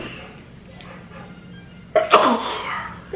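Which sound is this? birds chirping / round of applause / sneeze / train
sneeze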